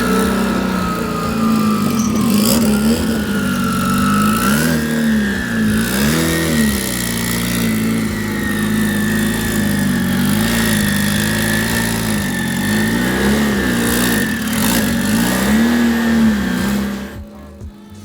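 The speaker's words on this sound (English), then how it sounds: "just listen to this Turbo Smart Turbo sing" A turbocharged car with a Turbo Smart turbo revs repeatedly, its loud close engine note rising and falling over a steady drone, with a high turbo whine riding on top throughout.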